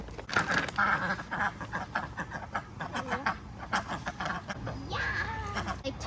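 Ducks quack repeatedly in choppy, overlapping bursts near a small pool where worms have been dropped in, close and fairly loud, with a few scoops and soft human voices mixed in.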